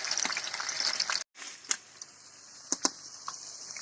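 Steady crackling sizzle of young potatoes frying in hot oil in a cauldron over an open fire, continuous and close, with a brief cut and a few sharp clinks or pops afterward.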